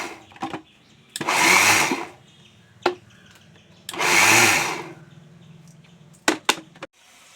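An electric mixer grinder coarsely crushes grated coconut and spices for a jackfruit thoran, running in two loud whirring pulses of about a second each, separated by clicks and handling noises, with no talking.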